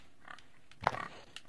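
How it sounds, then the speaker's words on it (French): A pig in Crafting Block World: Magic Dungeons Adventure on Nintendo Switch gives one short, soft oink partway through an otherwise quiet game soundscape. "J'entends un cochonou."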